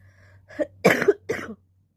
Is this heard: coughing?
yes